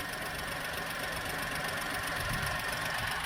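A 2010 VW Polo three-cylinder engine with about 150,000 miles idles close by, a steady slightly uneven hum with a quiet timing chain and light ticking, continuous and unchanging throughout.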